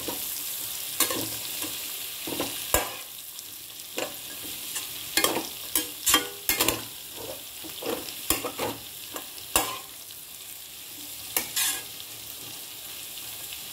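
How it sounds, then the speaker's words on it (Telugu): Cabbage and mixed vegetables stir-fried in a pan for a noodle dish, a low continuous sizzle punctuated by irregular sharp clacks and scrapes of a spatula tossing the vegetables, close and moderately loud. "ఆల్ వెజిటబుల్స్ వేసుకోవాలి. వేసి వేయించుకోవాలి."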